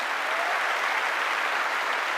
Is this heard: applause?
yes